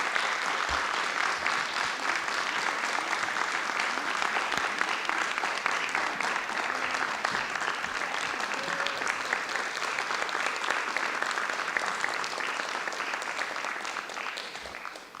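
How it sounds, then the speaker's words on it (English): An audience at a school board meeting applauds warmly, a thick continuous patter of many hands clapping that stays loud and even before fading at the end. "And let's give them another round of applause."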